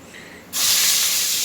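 Brinjal dropped into hot oil with curry leaves for a Tamil oil brinjal kulambu, a sudden loud broad hiss bursting in halfway and holding steady as the pieces sauté.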